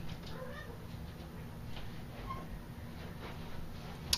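A house cat meows faintly in a quiet indoor room, two soft, drawn-out calls some distance from the microphone over a low background hiss.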